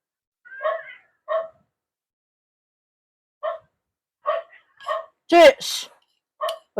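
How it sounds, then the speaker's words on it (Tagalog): Dogs bark outdoors in short, separate bursts, a few quick barks, a pause, then several more irregular barks, with one louder, harsher yelp near the end. "Ang ingay ng mga aso."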